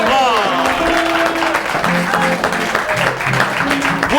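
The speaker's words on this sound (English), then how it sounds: "a round of applause" A radio-show audience applauds steadily for a comedian while voices talk loudly over the clapping throughout.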